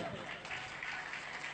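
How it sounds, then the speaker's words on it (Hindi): An audience claps at a Hindi poetry recital, a steady, faint wash of applause lasting a second or two, with a little background murmur. "एक बार ताली बजा दीजिएगा।"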